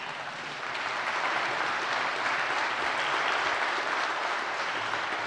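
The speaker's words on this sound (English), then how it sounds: "I would ask a huge round of applause for all the customers and panelists that were here today" Steady applause from a sizable conference audience of customers and panelists fills the whole stretch, a dense continuous wash of clapping at an even level.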